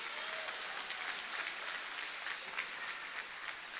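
A crowd at a provincial political rally gives a round of applause, steady continuous clapping heard at a distance, fairly faint and even throughout.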